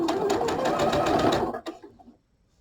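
A sewing machine stitches quilt pieces in a rapid, steady mechanical chatter for about a second and a half, close and clear, then stops with a couple of final clicks.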